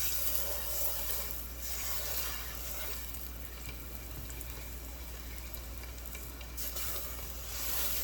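A tablespoon of vegetable oil sizzles in a pan as a soft, even crackle with a faint low hum beneath it. The hiss swells slightly at the start and end, and nobody speaks.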